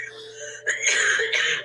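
A person gives two short dry coughs close by, the second following the first after a brief pause, with a steady hum underneath.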